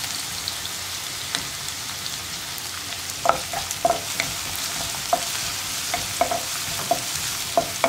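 Crushed onion and curry leaves sautéing over high flame in a pan, a loud continuous crackling sizzle with scattered sharper pops and spatula scrapes; no voices.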